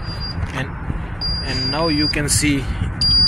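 A high steady alarm tone from a CAT MPD controller sounds on and off in short stretches while someone talks over it, with engine-like rumble underneath.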